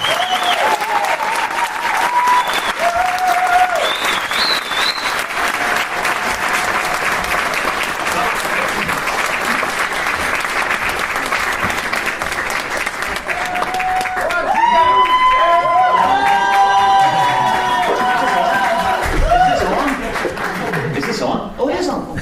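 A large audience gives a loud, sustained round of applause and cheering for a speaker at a wedding photography gathering, dense clapping throughout with whoops and shouted voices rising in the middle.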